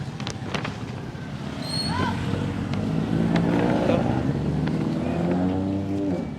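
A motorized tricycle's engine passes on a Philippine street, a steady rising buzzing drone swelling and holding close by, with faint voices in the background.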